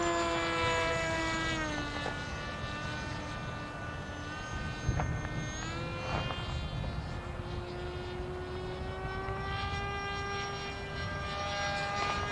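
An Immersion RC Blade Manta flying wing passes overhead, its steady propeller whine loud and continuous, with the harmonic pitch sliding up and down as the model changes speed, all under a constant rushing hum.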